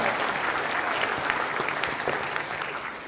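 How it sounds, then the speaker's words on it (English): Steady applause for Chris Holman at an evening Sister Cities celebration, a dense even clatter of many hands clapping that sustains for a few seconds without a break. "Let's give Chris a round of applause."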